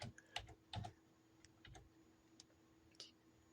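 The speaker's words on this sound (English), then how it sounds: "I'm just going to type it in." Someone types on the keyboard of an old Dell family computer, irregular clicking keystrokes, close and fairly quiet, with a steady faint electronic hum underneath.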